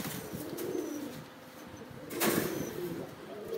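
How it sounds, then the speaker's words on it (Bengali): A Pakistani army pigeon, a fancy breed kept on a pigeon farm, coos in low, repeated throaty notes over a steady background hum, fairly close. "এখন ভাই আপনাদেরকে দেখাবো একটা পাকিস্তানি অরিজিনাল আর্মি কবুতর।"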